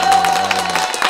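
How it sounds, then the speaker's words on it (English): Audience clapping and cheering from a crowd gathered at a talk, a steady wash of applause lasting about a second with faint voices mixed in. "We're all clapping."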